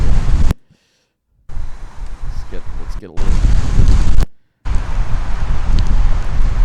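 Strong derecho storm wind buffets the microphone in heavy roaring gusts in Oklahoma, cut by brief silences, while a voice speaks briefly over it.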